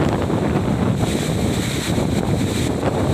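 Strong wind buffets the microphone in a continuous, rough roar with gusty surges across the whole stretch, loud and close, with no voices.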